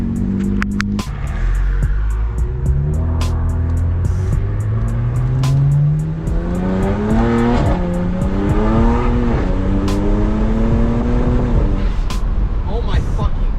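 A BMW 335is engine revs and drops through rapid downshifts of its dual clutch transmission, each gear change marked by a sharp crack, loud and close, with a voice briefly over it.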